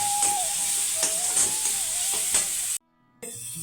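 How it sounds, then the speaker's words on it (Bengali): Chopped onions fry in oil with salt, ginger and green chili, giving a bright sizzle with soft stirring scrapes. A thin steady tone runs beneath, and the sound cuts out briefly near the end before resuming. "ভাজার সময় একটু নুন দিলে পেঁয়াজটা তাড়াতাড়ি ভাজা হয়ে যায়"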